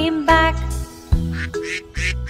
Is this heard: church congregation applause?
no